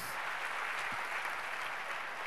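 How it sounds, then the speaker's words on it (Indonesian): Audience applause at a church sermon, a brief, fairly faint wash of steady clapping from a congregation with no talking over it. "Tepuk tangan yang dahsyat, yes."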